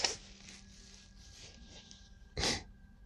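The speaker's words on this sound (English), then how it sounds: "I gotta blow my nose, sorry." A person blows their nose, with a brief soft blow at the start and a louder, sharper honk near the end, alone in a quiet room.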